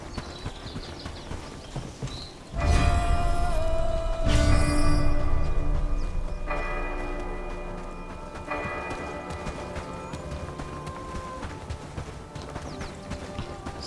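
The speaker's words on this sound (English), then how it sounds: "All right, let's ring the bell." A bell is struck twice in the Bellwright video game, each ring loud and near, with a long shimmering decay that fades gradually over several seconds.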